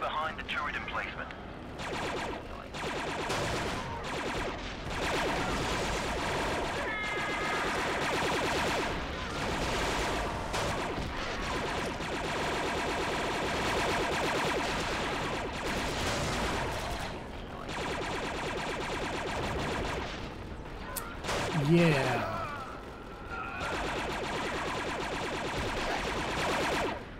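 Plasma blaster fire against droids in Star Wars Republic Commando, rapid bursts of automatic shots crackling through a noisy battle over nearly half a minute, with voices talking and shouting throughout.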